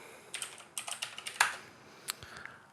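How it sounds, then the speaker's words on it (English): A handful of separate keystrokes click on a computer keyboard, sparse and uneven, close by in a quiet room with no voices. "we're going to type in invert"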